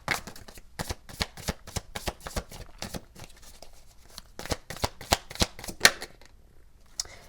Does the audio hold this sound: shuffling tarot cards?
yes